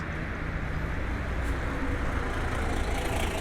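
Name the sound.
bus station field recording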